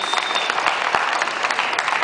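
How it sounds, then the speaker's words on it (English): A crowd at a CoffeeFest latte art competition in Las Vegas applauds a barista from Blenz Coffee, a brief, even burst of clapping from a moderate-sized audience. "Round of applause, everybody, for Philip Wang from Blenz Coffee"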